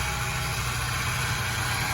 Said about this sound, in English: they're just using a little contraption there that